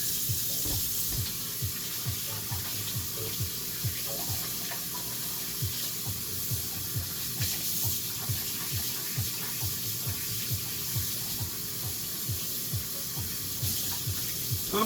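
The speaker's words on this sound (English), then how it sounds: "So guess I could wash this thing out." Running tap water splashes into a hollowed pumpkin bowl as it is rinsed out, a steady close gush with repeated low, rhythmic sloshing pulses and occasional clunks.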